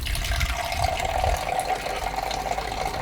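Beer pours steadily from the tap of a SOAB beer-in-a-box into a pint glass, a close, continuous liquid gush with a faint mechanical click near the start.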